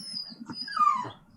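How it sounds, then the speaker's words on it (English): A dog whimpers and whines in a short, high, wavering cry that rises and falls, close by and on its own. "apologies for the dog."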